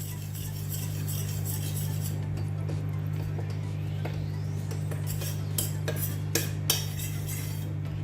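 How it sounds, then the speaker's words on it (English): A metal spoon mashes tomatoes and stirs cooked toor dal in a pot, making scattered scrapes and clinks over a steady low hum. The sounds are close and soft, with a few sharper taps near the end and no voices. "You can quickly mash your tomatoes using a spoon"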